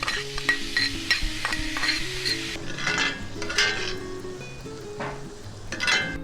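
Squid frying quickly in a pan for paella, a steady sizzle under repeated scraping and clinking of a utensil stirring against the pan, close and continuous with no voices.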